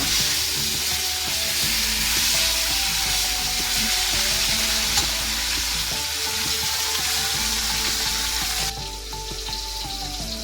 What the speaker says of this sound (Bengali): আমাদের মাছের একদিক ভাজা হয়ে গেছে। এবার আমরা এটাকে উল্টে নেব।